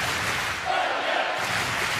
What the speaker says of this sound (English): But the crowd getting right behind him now.